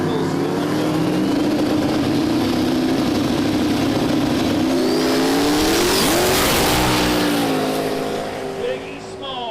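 Drag race cars, among them a 92 Mustang, launch at a no-prep event with loud rising engine wails and revving pitch sweeps, tire noise and crowd roar, while an announcer talks over it.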